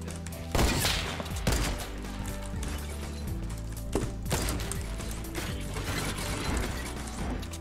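Heavy Desert Eagle pistol shots in Fortnite, a few loud, widely spaced cracks over steady game sound and mechanical clatter.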